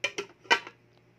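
Metal lid set down over a pot of pork spareribs sinigang on a stove, a few quick clanks and rattles close by, the loudest in the middle, then quiet.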